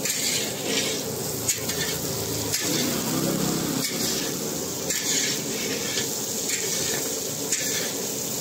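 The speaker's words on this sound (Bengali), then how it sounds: "দিয়ে বরবটিটাকে ভালোভাবে আমরা ভেজে নেব।" Vegetables and yardlong beans frying in a large pan for a village khichuri feast for 100 people, with a continuous loud sizzle and periodic scraping stirs, close up.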